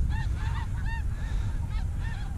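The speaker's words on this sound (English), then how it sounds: "There you can see the swans up there. They're swans, not geese." Several honking calls from a flock of swans, repeated in short bursts over steady low rumbling wind or background noise.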